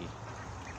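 Ducks on a small mixed farm with a water-spinach pond quack in a quick, muddled burst, fairly faint and close together, with no talking.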